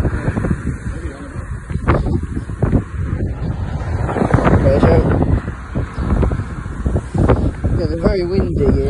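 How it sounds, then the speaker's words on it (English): Strong wind blows outdoors in Greece, buffeting the microphone with loud, continuous rumbling gusts, while someone talks over it throughout. "Very windy here"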